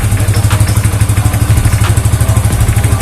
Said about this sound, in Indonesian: Cukup sekali starter aja langsung nyaut, langsung bisa nyala.